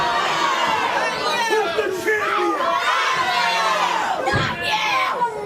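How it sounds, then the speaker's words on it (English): A wrestling arena crowd jeers and shouts against a wrestler called Uncle Eddie. Loud, continuous mass chatter and yelling surge and fall, with a sharp burst of noise toward the end. "this crowd certainly not in favor of Uncle Eddie."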